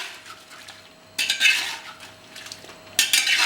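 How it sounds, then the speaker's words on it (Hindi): Chicken masala being stirred and fried in a pan: metal spoon scrapes and clatters against the pan in two loud bursts, with a low fry underneath. "इसे बढ़िया फ्राई कर लेंगे।"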